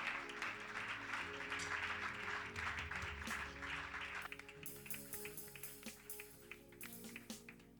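Church congregation applauding, a broad wash of clapping over music that thins into distinct rhythmic handclaps in the second half, moderately distant and fairly quiet.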